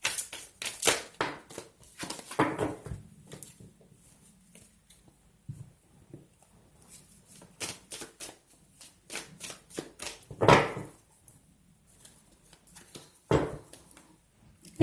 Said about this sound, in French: je vais les mélanger un petit coup